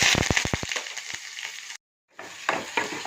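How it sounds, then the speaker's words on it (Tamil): Onion, garlic and curry leaves crackle and sizzle in hot oil with popping mustard seeds for a keera kolambu, close and bright, with a few quick taps at the start and a brief cut of silence midway. "கடுகு பொரிஞ்ச உடனே வெங்காயம், பூண்டு, கருவேப்பிலை போட்டு தாளிச்சிக்கலாம்"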